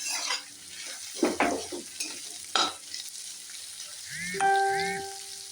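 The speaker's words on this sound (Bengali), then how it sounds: "তাই এটা একটু সরিয়ে মাঝখানে বাদামটা একটু ভেজে নেব" Peanuts fry in a pan with potato and onion while a utensil scrapes and clatters against the pan in several short bursts over a soft sizzle. Near the end, a couple of ringing metallic tones sound.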